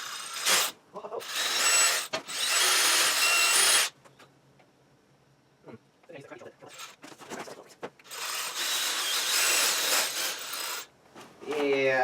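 Power drill boring into a masonry wall with an ordinary bit and no hammer action while shelves are put up: loud, close grinding bursts, with a long stretch of near-silence and faint scraping between them.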